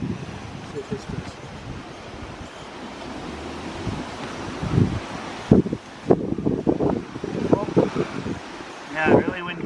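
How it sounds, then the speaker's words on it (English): Strong outdoor wind roars and buffets steadily against the microphone, rising in gusts, while a person talks intermittently over the rushing noise. "Yeah, really windy conditions today."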